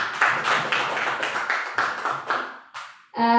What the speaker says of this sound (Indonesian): Kita beri tepuk tangan untuk penampilan Bu Susi